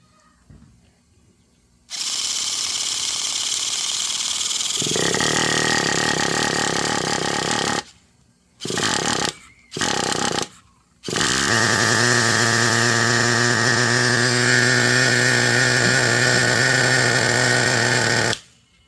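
A small two-stroke engine, primed with easy start, fires up and runs at a loud buzzing pitch, cuts out and restarts in short bursts, then settles into a steady, close, high-revving run.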